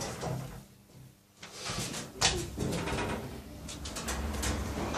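A ThyssenKrupp machine-room-less lift door slides shut at a train station, its soft mechanical rumble and faint clunks set against a steady ambient hum with occasional higher chirps in the background.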